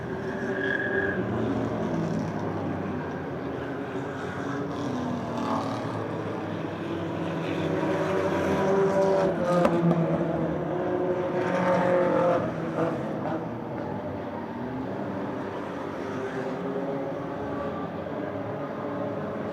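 Stock cars roar around the slick Motordrome Speedway oval during a 50-lap enduro, engines swelling and fading as the pack passes, a loud continuous mix of distant and near cars.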